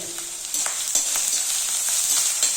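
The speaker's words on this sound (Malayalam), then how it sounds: "ഇതിൽ എണ്ണ കിടന്നിട്ട് നന്നായിട്ടൊന്ന് മൂത്ത് വരട്ടെ" Crushed garlic and ginger sizzle steadily in hot coconut oil, a close, continuous hiss with a few soft crackles and stirring scrapes, no voices.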